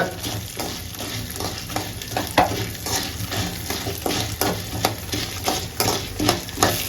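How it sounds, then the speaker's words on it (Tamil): Urad dal roasting with dried red chillies in a pan for a ginger thuvaiyal, stirred briskly so a constant close sizzle carries a regular rhythm of spatula scrapes and rattling lentils, with no talking. "உளுத்தம் பருப்பு சேர்த்து நல்லா வறுக்கலாங்க"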